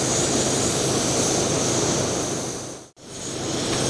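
An MSR WhisperLite liquid-fuel camping stove burns at full output with a steady, loud roaring hiss that runs continuously, broken only by a brief dip near the end.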